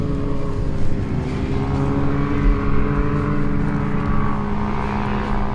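An off-road vehicle engine roars steadily under load as it digs into sand on the Silver Lake Sand Dunes in Mears, Michigan, a loud sustained drone with slight surges throughout and no voices.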